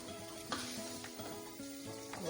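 Spaghetti with chicken and vegetables sizzles steadily in a large pan, a soft continuous frying hiss broken by a few quiet clinks and stirring scrapes, close and fairly faint with no speech.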